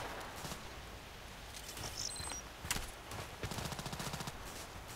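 Gunfire in the online shooter Contract Wars, bursts of rapid automatic shots and single cracks at middling distance, with no talk.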